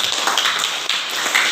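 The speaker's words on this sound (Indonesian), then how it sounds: "tepuk tangan untuk Fadli" A classroom audience claps for a student's presentation, with a short burst of brisk, fairly close hand claps at an even level.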